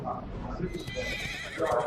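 A horse neigh and whinny plays as the Argent Horserider card lands in Hearthstone during a tournament match, a short game sound effect with clip-clop hooves under continuous background noise.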